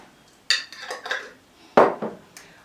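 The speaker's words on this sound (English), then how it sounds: "And then you just mix it very well." Ingredients being mixed in a bowl: two bursts of scraping and clinking a little over a second apart, each followed by softer scrapes, close and fairly quiet with no talking.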